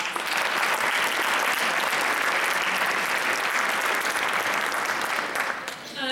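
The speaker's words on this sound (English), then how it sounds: "So please give yourselves a round of applause." A seated audience at a civic local-government event gives a sustained round of applause, dense even clapping filling the hall for several seconds before tapering as a voice returns.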